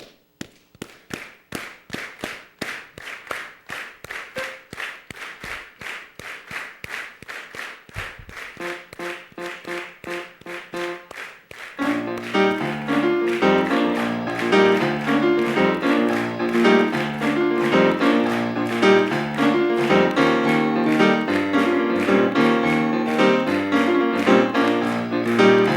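An audience claps the New Orleans bambula rhythm in repeated sharp percussive bursts, then a fuller, louder layer of piano and rhythm enters and carries on continuously to the end.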